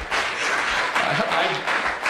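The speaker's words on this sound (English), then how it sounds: "I appreciate the applause" Steady applause from an audience at an awards gala speech, a broad wash of clapping that holds for a couple of seconds with faint voices underneath.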